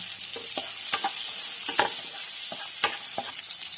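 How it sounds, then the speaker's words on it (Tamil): Onions and green chillies sautéed in a kadai, steady close sizzling with repeated scraping stirs of a spoon against the pan, no talking. "ஒரு 2 நிமிஷம் நல்லா சாட்டே பண்ணிக்கோங்க"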